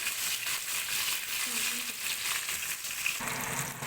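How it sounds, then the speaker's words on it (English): Onions sizzle in a hot pan while being fried for an Assamese rice dish, a steady bright crackling hiss that holds evenly throughout with no talking. "we do not want to fry the onions in a very golden brown"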